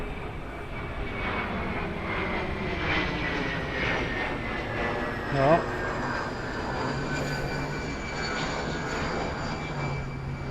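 A jet airplane taking off from Francis S. Gabreski Airport on Long Island, heard as a steady, broad roar that holds for the whole stretch at moderate distance, with a brief word spoken partway through.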